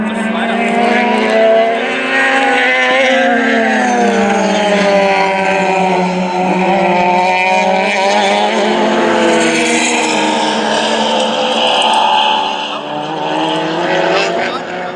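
Race car lapping Willow Springs in a CalClub race, its engine droning continuously from inside the car, rising and falling in pitch through gear changes and corners over a long steady stretch.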